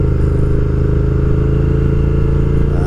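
A 2020 Triumph Speed Twin motorcycle on an open-road ride, its engine holding a steady, loud, even drone throughout with no voices.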